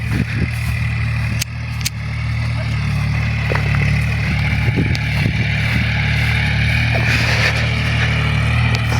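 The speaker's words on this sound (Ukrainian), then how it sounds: "Трактор громадить." A tractor raking cut grass on a large field beside a horse yard: a loud, steady low diesel drone with clanking and rattling from the implement, close by and continuous.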